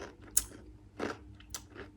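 A crunchy gingerbread man bitten and chewed at a cafe: a sharp bite snap followed by a few crunchy chewing sounds, close and quiet, without talk.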